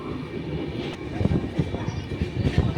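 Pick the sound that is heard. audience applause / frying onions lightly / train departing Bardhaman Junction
train departing Bardhaman Junction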